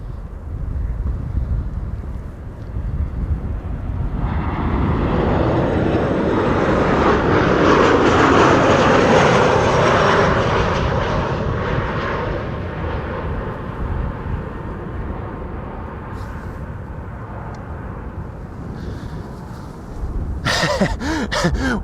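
Airbus A330 airliners, Delta and KLM, arrive close overhead at Amsterdam Schiphol, their loud jet roar swelling to a peak and then slowly fading, buffeted by wind noise.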